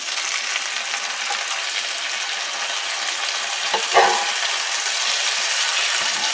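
A turkey steak simmers in a pan, giving a steady bright sizzle throughout with a brief spatter of crackles near the middle and no talk.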